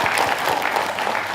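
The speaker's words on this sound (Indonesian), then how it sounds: "Tepuk tangan Bu" Applause from women at a majelis taklim religious study gathering, a dense steady patter of hands filling the short stretch without talk.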